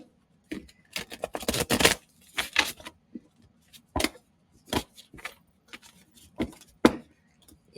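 Tarot cards being shuffled by hand in short, uneven bursts of riffling and sliding, close and crisp, separated by quiet pauses, with no voice over it.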